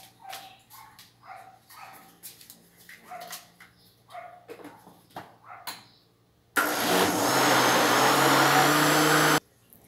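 An electric mixer beats cornmeal cake batter with a loud, steady whirring drone that starts abruptly after several seconds of sharp, dog-bark-like sounds, then cuts off near the end.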